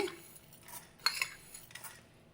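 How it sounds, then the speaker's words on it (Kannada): Coriander seeds are tipped into a frying pan and stirred with a spoon, giving soft scattered rattles and a few sharp metallic clinks of spoon on pan, close and quiet. "ಈಗ ಧನಿಯಾ ಕಾಳು ಹಾಕೋಣ."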